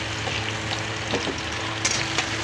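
Ginger garlic paste and garlic hit hot oil in a pan, giving a loud, steady sizzle up close, with faint stirring scrapes and no talking.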